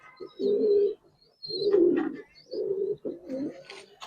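Giribaz pigeons at a loft give several deep, rounded coos in rhythmic bursts, close and clear, with faint higher chirps from other birds between them.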